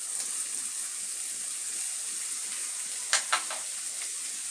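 Onion, garlic and ginger fry steadily in a pan with coriander powder and cumin paste, a constant close sizzling hiss throughout, broken near the end by a couple of brief stirring scrapes.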